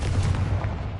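A Confringo fire spell cast in Hogwarts Legacy lands as a loud, close, booming blast with a heavy low rumble that fills the whole moment.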